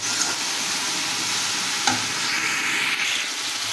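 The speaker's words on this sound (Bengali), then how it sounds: "এরপর মশলাগুলো খুব ভালোভাবে নেড়ে চেড়ে" Chili, cumin and turmeric powders stir-fried in a hot pan for a Bangladeshi duck and pumpkin dish, giving a steady close sizzle with scraping stirs and one sharper clack of the spoon partway through.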